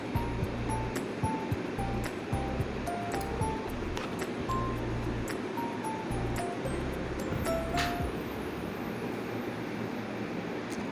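Bay leaves, dried red chillies and nigella seeds crackle and sizzle in hot mustard oil in a pan for a fish curry, a steady close frying hiss with scattered light clinks throughout.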